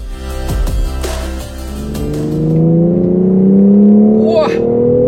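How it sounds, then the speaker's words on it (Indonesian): A 2020 BMW X4 M Competition with a 510 hp engine accelerates hard, its tone rising smoothly through the revs as speed builds, loud and close from the cabin, with a voice talking over the start. "ada tenaga 510 HP yang melesatkan mobil ini bagaikan supercar"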